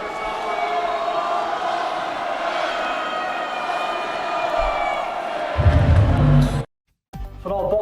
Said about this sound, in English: please a big round of applause for Daniel Przewieslik.